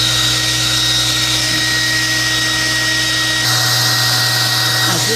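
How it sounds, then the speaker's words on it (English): An electric hair blower roars steadily and close while defrosting a walk-in freezer, a continuous loud whoosh and motor hum with a slight change in tone near the end. "you could as well assist the defrost with this electric hair blower."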